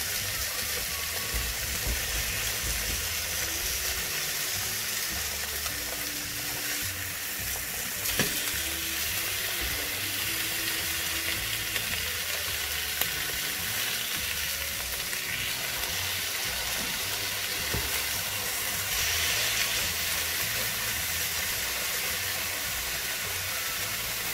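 Veal liver sizzles steadily in a hot pan while it is seared briefly on each side, a loud continuous fry with a few faint clinks and taps.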